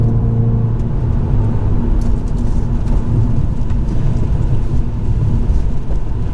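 A Hyundai i20N hot hatch with stiff passive dampers cruises around a test course at about 55 mph, its engine and road noise forming a continuous loud, close rumble throughout with no speech.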